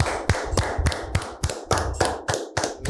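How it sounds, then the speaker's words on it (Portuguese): Crisp, evenly spaced hand claps ring out in a podcast studio, about ten sharp slaps in a steady rhythm, close and clear with no talking over them. "Isso merece uma forte salva de palmas."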